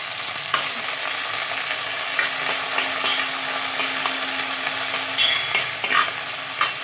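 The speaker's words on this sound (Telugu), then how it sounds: "అది కొంచెం వేగుతున్నప్పుడే పుదీనా, మెంతి కూర వేసుకుంటున్నాను" Spices, mint and fenugreek leaves fry in hot oil for paneer biryani, giving a loud, continuous sizzle with crackles and stirring scrapes throughout and no voices.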